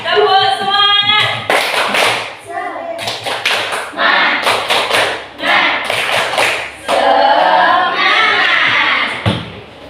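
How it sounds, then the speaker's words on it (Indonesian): A class group does rhythmic clap cheers in quick bursts, loud and close, with children's voices chattering between the rounds of applause. "tepuk tangan untuk kalian. Tepuk semangat"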